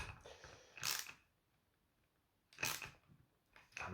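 Quiet ratcheting clicks from a socket wrench tightening a 17mm hex nut on a Traxxas Slash 4x4 RC truck wheel, in two short bursts separated by a pause, close and faint.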